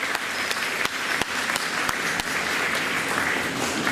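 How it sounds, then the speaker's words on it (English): An audience at a school board meeting gives a steady round of applause after the Pledge of Allegiance, a dense wash of clapping with a few sharper individual claps standing out, moderately loud throughout. "Let's give Erica a big round of applause"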